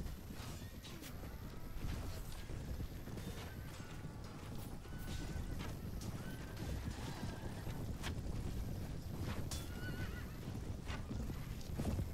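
Horses whinny repeatedly over a busy rhythm of galloping hooves during a mounted battle in the video game Mount & Blade: Warband, set against a dense, constant bed of game noise.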